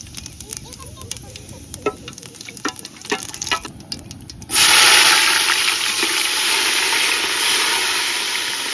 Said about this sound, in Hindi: तो सबसे पहले तेल में डालते हैं जीरा और प्याज